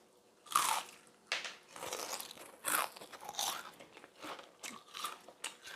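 Someone bites and chews a crispy gluten-free zucchini pancake fried with extra starch, giving a series of sharp, close crunches and crackles at an irregular rhythm, with no talking.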